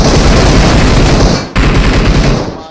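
Rapid machine gun fire in a Last Zone shooting video game, a loud continuous burst of dense shots with a short break partway through, no talk.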